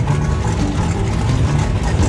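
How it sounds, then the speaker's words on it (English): A Phantom fighter jet's Dash 8 engine, mounted on an old pyro truck, holds a loud, steady low rumble throughout, a close, unbroken engine drone with no pauses. "this is the Dash 8 engine right out of the Phantom fighter jet"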